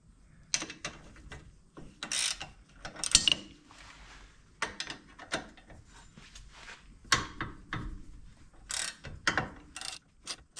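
Brake assembly being taken off a Polaris General UTV wheel during a bearing service, heard as repeated close ratcheting clicks and metallic tool clatter in short bursts, with pauses between and no speech.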